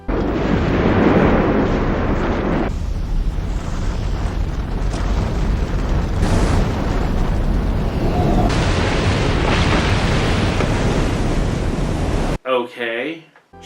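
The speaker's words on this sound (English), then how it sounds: "Dagura is defeated, dying atop the exploding pyramid." A pyramid explodes in the 1997 kaiju film Rebirth of Mothra II, heard as a long, loud, roaring rumble of debris and blasts that runs steadily for about twelve seconds before cutting away to a brief voice.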